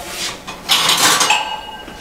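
Ingredients being mixed in a kitchen vessel, a close run of scraping and clinking of a utensil against the container, with busier, louder stirring in the second half and no talk.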